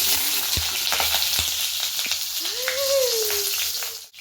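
Grated coconut and bilimbi sizzle loudly in a hot pan, a steady close frying hiss with scraping stirs, and faint talk underneath.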